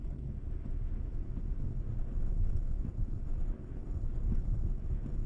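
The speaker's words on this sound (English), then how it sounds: "the wind noise somewhat masks the engine noise," Steady low roar of wind buffeting a Peugeot 508 PureTech 130 cabin at highway speed, a dense broadband rush with slight surges, no voices.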